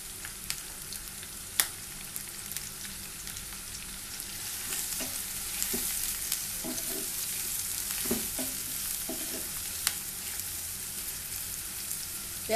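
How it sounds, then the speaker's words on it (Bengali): Onions frying in hot oil for bele fish bhuna, a steady soft sizzle with intermittent stirring clicks and spatters, moderately quiet and without talk. "পেঁয়াজটাকে হালকা ভেজে নিব।"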